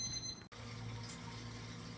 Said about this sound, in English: we'll go and hit the cold water